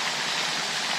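A fountain splashes steadily into a duck pond, giving a dense, even hiss of falling water, close and fairly loud, with no voices.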